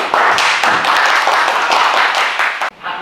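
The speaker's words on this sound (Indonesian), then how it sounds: "kasih tepuk tangan dulu" A crowd claps and applauds steadily for nearly three seconds, loud and close, before the clapping abruptly stops.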